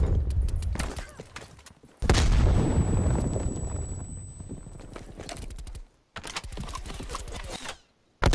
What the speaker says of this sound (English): Watch out, frag!